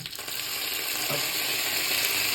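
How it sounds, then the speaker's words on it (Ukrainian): Steady, loud sizzling of dumplings frying in a pan, a dense continuous hiss with occasional crackles, no voices. "Пельмені будемо жарити до золотистого кольору."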